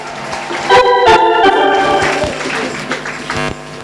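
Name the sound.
audience applauding in church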